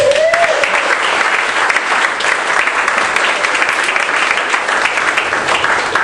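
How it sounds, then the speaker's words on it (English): A crowd applauding loudly and steadily, dense clapping throughout with faint cheering mixed in. "Put your hands together and clap real hard for him."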